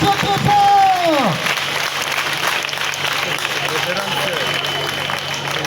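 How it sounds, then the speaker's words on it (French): Schoolchildren applaud and cheer on request at a school event in Kinshasa, a loud burst of clapping and crowd noise at the start that settles into a steady, diffuse roar under a voice. "Chers élèves, acclamez s'il vous plaît. Acclamez très fort."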